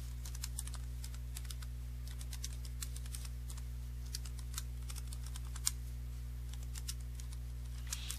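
Computer keyboard typing for CorelDRAW graphics work, a steady run of light, rapid key clicks over a constant low electrical hum, close and quiet.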